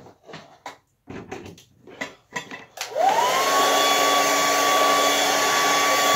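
Handheld hair dryer switched on at high setting with cool shot: after a few brief knocks and handling sounds, a loud, steady blowing whine starts and holds close up.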